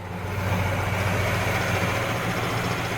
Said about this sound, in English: The engine runs absolutely beautiful.